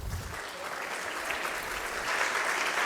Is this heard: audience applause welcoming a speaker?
yes